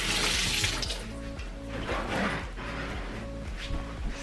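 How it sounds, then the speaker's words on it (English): Water runs from a sink tap as hands are washed at home, a steady close splashing rush with small shifts as the hands move through the stream. "I'm gonna go wash my hand. So I'm gonna wash my hand."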